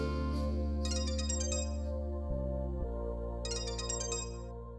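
A phone ringtone plays a loud, steady electronic melody that continues unbroken, with bright chiming bursts near the start and again toward the end.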